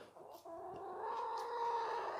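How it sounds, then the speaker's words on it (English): Chickens clucking and murmuring close by, a steady stream of soft, overlapping bird calls with no talking. "I'm dodging chickens here."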